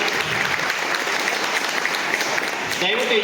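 An audience at a photographers' association event bursts into loud, dense applause that fills the hall without a break for several seconds.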